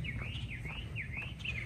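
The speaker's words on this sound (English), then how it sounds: "Y'all hear the birds chirping?" Small birds chirp in repeated swooping, warbling calls during an early morning walk outdoors, faint to moderate over a low rumbling background, with no talk.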